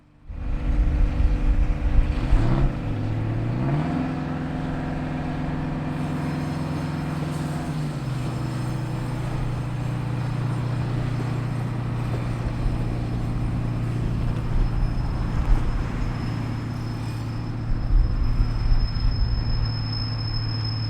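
KiwiRail's tiny ETM 432 track evaluation railcar runs along the Hautapu Branch line. Its engine drones loud and close, its note rises and then holds steady, and wheel and rail noise continue throughout. Nobody speaks.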